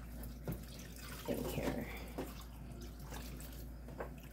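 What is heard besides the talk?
vinegar being poured into a pot for dyeing yarn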